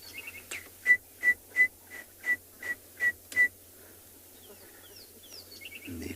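Birds call at sunrise in the Kalahari bush, led by a run of eight evenly spaced, clear whistled notes, with fainter chirps and twittering trailing afterward over a soft insect buzz.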